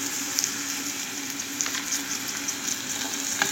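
Chicken frying in cooking oil in a pan, a steady close sizzle with fine spattering crackles throughout and no voices.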